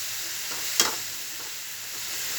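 Grated coconut and jaggery cook in a pan for narkel naru while being stirred, a steady soft sizzling hiss with one sharp scrape or clink near the start and faint stirring strokes afterward, no voices.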